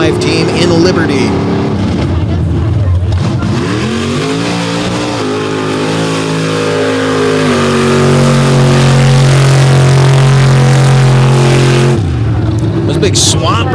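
Mud truck on big Swamper tires racing through a mud pit, a loud engine roaring and shifting pitch as it churns along, with a commentator talking over it throughout.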